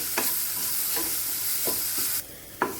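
Paneer being stirred with ground spice powder in a pan, a steady sizzle broken by a few distinct spatula scrapes at intervals, with the hiss dropping away near the end before one last scrape.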